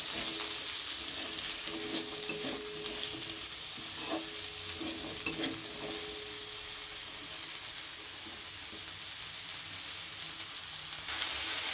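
Onion and red capsicum stir-frying in a pan, a steady low sizzle and hiss with occasional soft scrapes of stirring, fairly quiet and continuous throughout.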